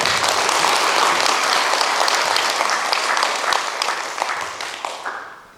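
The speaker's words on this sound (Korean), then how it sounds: "축하의 박수 한번 드리겠습니다" A crowd at a public town meeting with local residents breaks into loud, full applause, steady at first and then thinning out and fading toward the end.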